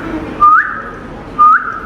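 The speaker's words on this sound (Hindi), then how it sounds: "बोलने वाला तोता था और सीटियाँ भी मार रहा था" A talking parrot whistles twice, each a short rising whistle about a second apart, loud and close with no talk.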